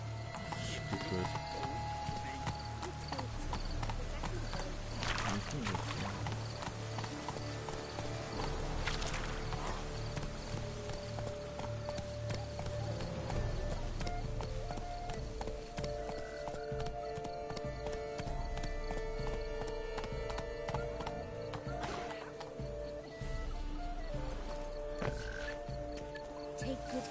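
Trotting horse hooves clop steadily through a long stretch of The Witcher 3 gameplay, set against outdoor ambience with scattered game sounds and a brief whinny.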